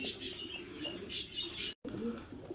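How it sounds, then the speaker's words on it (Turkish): Könenberg swallow pigeons coo and chirp nearby in a loft, soft low cooing under scattered higher chirps, with a brief dropout near the end. "Sahiplendirilmeye açık bir takım kırlangıç."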